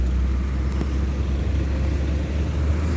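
Vehicles queuing to enter the newly opened Padang–Sicincin toll road, a steady low engine and traffic rumble nearby with no clear pass-bys.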